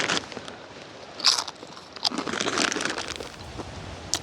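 Crunchy snack eaten at a campsite, a loud close bite followed by a few seconds of crackly crunching chews.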